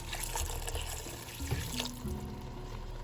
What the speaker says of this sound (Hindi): थोड़ा सा पानी डाल दें आप गरम,